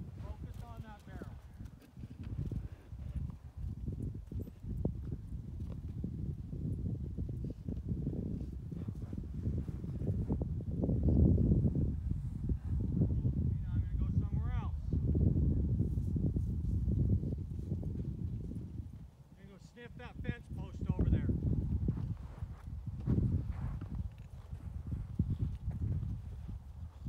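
Horse hooves clip-clop at a steady walking pace on soft arena ground, a young horse being worked, with some rustling and a few higher chirps and squeaks now and then.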